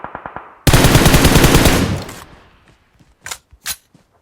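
Gunfire in a multiplayer shooter video game: a few single shots, then a loud, dense burst of automatic fire lasting over a second, followed by scattered distant shots.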